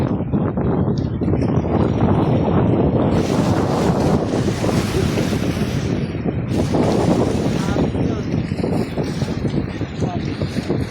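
Strong wind buffets the microphone in heavy, roaring gusts while fishing on the coast in Oman, with surf and water noise underneath and voices faintly mixed in.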